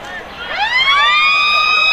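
The three-quarter time siren sounds at a Bendigo league Australian football final between Castlemaine and Maryborough: a loud rising wail that climbs in pitch and then holds steady.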